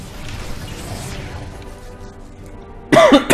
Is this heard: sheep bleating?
no